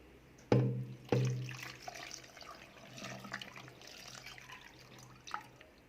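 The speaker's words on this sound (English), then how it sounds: "I'm going to pour in the milk." Milk trickles and drips steadily as it is poured into a blender, with a couple of sharp knocks near the start, no voices.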